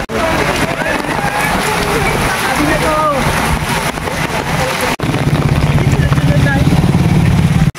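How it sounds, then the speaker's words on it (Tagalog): Heavy rain pours steadily and loudly, a dense continuous hiss and patter close by, growing even stronger partway through. "Napakalakas ng ulan."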